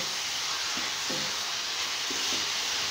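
Carrot halwa with sugar roasts in a pan over high heat, a steady, dense sizzling hiss that runs throughout, with a few soft stirring scrapes and no talk.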